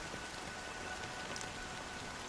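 Rain falling in the video game Honkai: Star Rail, a faint, even hiss of steady rainfall with soft scattered drops and no talk.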